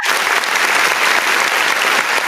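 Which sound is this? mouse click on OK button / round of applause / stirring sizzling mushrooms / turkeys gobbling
round of applause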